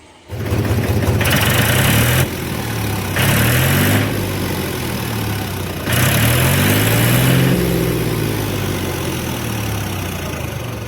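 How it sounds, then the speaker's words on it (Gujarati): A 275 DI diesel tractor engine with a newly fitted silencer idles steadily and loudly nearby, its low chugging broken by a few brief rises in pitch and loudness. "ટ્રેક્ટરનો તમને અવાજ સંભળાવી દઈએ"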